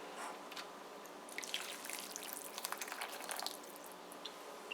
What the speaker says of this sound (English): So we're soaking it in some hot water here.